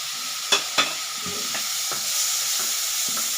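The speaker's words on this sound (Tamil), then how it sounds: "இப்போ இதிலே நம்ம தக்காளி போட்டுருவோம் ரெண்டு தக்காளி பொடிசாக கட் பண்ணி வச்சுருக்கேன்" Two finely chopped tomatoes sizzle as they are stir-fried in a pan for egg burji, making a steady hiss with several sharp scraping stirs, two louder ones near the start.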